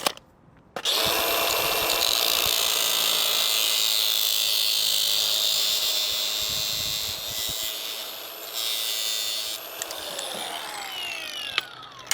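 A power saw cuts coupling pieces to six inches for mounting vending machines, a loud continuous whining buzz that starts abruptly, runs for about nine seconds with slight dips, then winds down.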